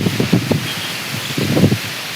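A wind and rain storm in Surendranagar district shakes the leaves, giving gusty rustling bursts against a steady windy hiss. No one speaks.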